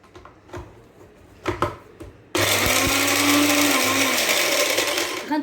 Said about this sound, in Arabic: غادي نزيد مازال نطحنو حتى يولي بودر